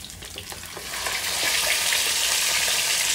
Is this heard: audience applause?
no